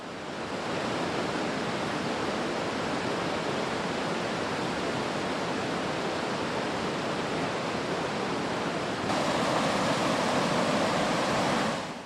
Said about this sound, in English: The noise was coming from another large waterfall just around the corner